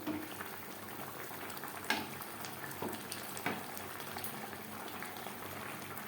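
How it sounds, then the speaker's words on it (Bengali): Lote fish frying in a pan with spices, a steady soft sizzle and bubbling throughout, with a few faint scrapes as it is gently stirred, no talking. "এইভাবে আলতো হাতে নাড়াচাড়া করে দিতে হবে না হলে তলা লেগে যাওয়ার সম্ভাবনা থাকতে পারে"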